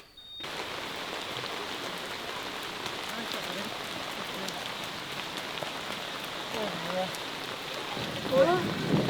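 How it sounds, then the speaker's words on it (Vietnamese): Heavy rain falls in a dense, steady wash of patter on surfaces, close and loud throughout, with faint voices briefly near the end. "bố mưa to quá"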